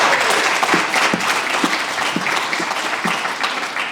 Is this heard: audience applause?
yes